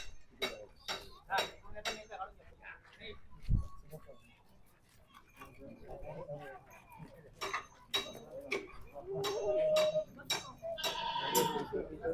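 Goats at a farm where buyers have come to see the herd bleat repeatedly at close range, mixed with people talking and some clinking in the background.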